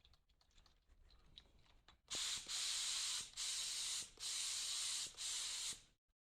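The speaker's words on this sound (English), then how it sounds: "So we'll have to shake the heck out of this while we're spraying" Spray paint with glitter and pearl hisses from a can in four close, loud bursts broken by short pauses. Clicks and light rattling come first, and no one speaks.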